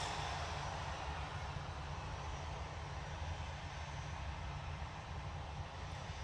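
Ryanair airliner departing Manchester Airport for Seville, a steady, fairly faint broadband engine roar with a low rumble that holds evenly throughout.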